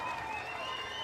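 A brief applause sound effect played during a Brazilian political news commentary, steady dense crowd clapping throughout, with a faint voice underneath.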